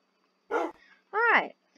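A cartoonish dog in the video game D3rpland gives two short, bright barks about half a second apart, loud and close against near silence.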